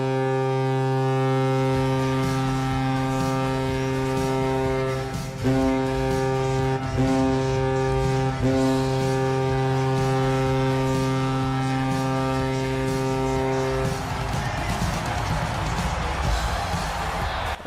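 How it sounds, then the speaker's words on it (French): The Vegas Golden Knights NHL goal horn blares as a loud sustained chord-like foghorn blast in an arena for about fourteen seconds, broken by brief pulses, then gives way to crowd noise and music. "La sirène de but, c'est pas si pire, mais ça ressemble beaucoup à l'Avalanche du Colorado."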